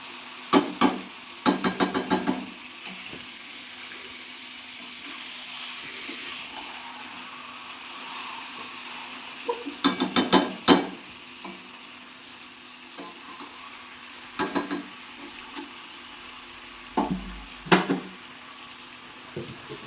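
Mutton pieces stirred in a hot frying pan for a mutton curry, a low continuous sizzle broken by repeated bursts of spatula scraping and clinking against the pan, close and fairly quiet.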